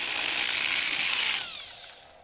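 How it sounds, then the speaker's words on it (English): A power drill boring a tiny hole in plastic, a steady high whirring for about a second and a half that then winds down and fades out, close by with no talking. "I'm just going to go ahead and drill a tiny little hole here."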